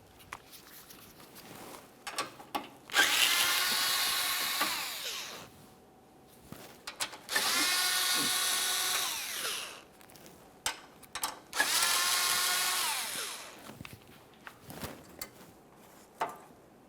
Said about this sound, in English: we'll remove these three 7mm headed mounting bolts